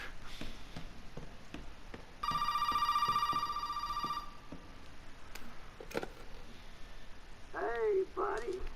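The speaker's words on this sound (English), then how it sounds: "Oh god, the phone's ringing." In the video game Resident Evil 7, an old telephone bell rings steadily for about two seconds. Faint ambient noise and scattered clicks sit around it, and a short creaking sound comes near the end.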